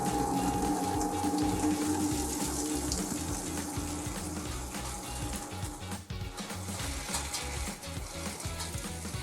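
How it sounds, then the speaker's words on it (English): Liquid drains from a Vulcan VG30 commercial braising pan through its draw-off valve during mac and cheese preparation, a steady rushing, gurgling flow with pulsing pump-like churn throughout, no voices. "The draw-off valve is great for removing liquids from the pan."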